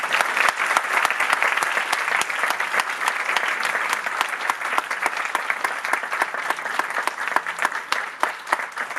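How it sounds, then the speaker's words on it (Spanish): Sustained applause from a notarial seminar audience, many people clapping in a dense, even patter that carries on at steady volume for several seconds. "Denle por favor un aplauso."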